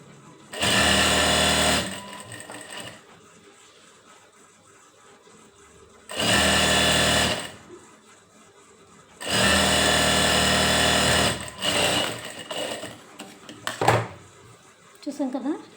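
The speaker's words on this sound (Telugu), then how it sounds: "ఇలా ఫోల్డింగ్ చేసుకొని ఫస్ట్ ఎడ్జ్ కుట్టేసుకొని రావాలి." A sewing machine stitching the folded edge of a Punjabi dress pant runs in three loud close bursts, short, short then longer, separated by quieter pauses with fabric handling, and a voice talks briefly near the end.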